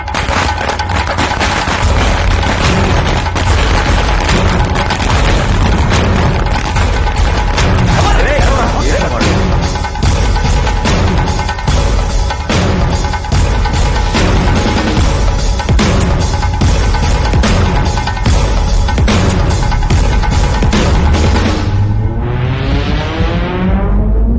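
A loud, continuous barrage of firecrackers crackling and popping in rapid bursts, ending with a short rising whistle.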